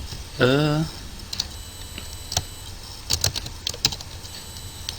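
A computer keyboard is typed on in short bursts of close, light key clicks after a brief vocal sound at the start.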